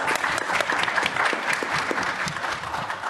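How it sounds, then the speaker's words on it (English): A roomful of people at a 2022 Newark education think-tank gathering claps loudly and continuously, a dense close wash of hands with no talk over it. "Can we go give ourselves a round of applause?"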